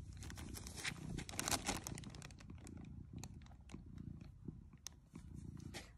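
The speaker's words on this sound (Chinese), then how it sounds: "在咕噜咕噜，你们听。" A cat tucked inside a cardboard box purrs quietly and continuously at close range, mixed with crinkling and rustling of cardboard and plastic; no talking.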